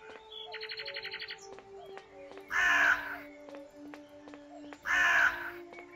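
Crows in the video game Midnight Scenes: The Nanny give two loud, harsh caws a couple of seconds apart, set against quieter chirps, faint ticking, and a low steady hum.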